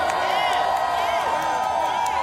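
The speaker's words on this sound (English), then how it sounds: "Give her a loving round of applause." Crowd cheering and whooping at an outdoor rally in support of the Department of Housing and Urban Development, a steady, dense roar of voices with scattered claps, loud and continuous throughout.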